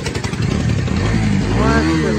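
A KTM Duke 200 and a Bajaj Dominar 250 fitted with SC Project exhausts rev loudly up close, their engine note rising and whining as they accelerate, while someone talks over them.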